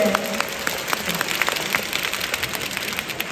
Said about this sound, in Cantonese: 俾啲掌聲